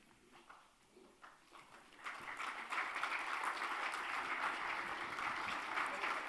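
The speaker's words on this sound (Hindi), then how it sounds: "जोरदार तालियों से" Applause from a crowd at a felicitation event honoring Padmashri Dr. Rajendra Badwe, beginning softly and then swelling into sustained loud clapping that fills the room.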